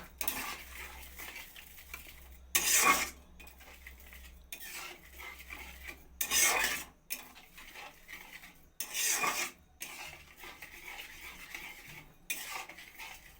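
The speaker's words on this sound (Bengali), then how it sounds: "চিনিটা দিয়ে ভালো করে নাড়াচাড়া করে নেব" A spoon scrapes and clinks against a pan while sugar is stirred into semai (vermicelli) with the gas turned off, coming in distinct bursts of metallic scraping separated by short quiet gaps.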